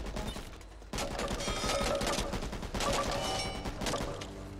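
Rapid gunfire from Back 4 Blood, an AK among the weapons, loud and close, with dense bursts of shots that go on almost without a break over a steady game background.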